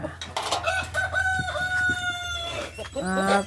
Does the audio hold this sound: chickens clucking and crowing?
yes